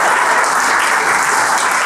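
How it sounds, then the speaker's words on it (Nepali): A revival church congregation claps hands together in a loud, dense, continuous burst filling the hall, with no speech over it. "आरिसले ताली बजाइदिनुहोस् न बरु"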